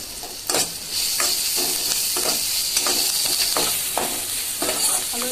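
Chopped garlic sizzles in hot oil for chowmein, a steady bright hiss punctuated by repeated scraping stir strokes of a spatula in the pan, close up with no talking.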